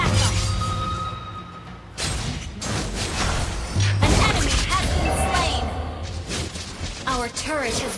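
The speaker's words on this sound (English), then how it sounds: "Turret has been destroyed." Crashing impacts, whooshes and thuds from a turret being destroyed in the Mobile Legends video game play back to back in a dense, loud mix, with announcer-style voices talking over the action.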